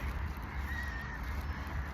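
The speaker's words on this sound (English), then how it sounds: "these geese are not bothered about this food" Geese honk nearby outdoors, a continuous rough chorus of overlapping honks over low background rumble, with no one talking.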